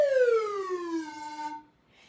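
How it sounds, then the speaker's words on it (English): A slide whistle glides smoothly down from a high to a low pitch in one continuous, loud tone, then cuts off into quiet. "When we want to go down, it's going to be a lower sound like this."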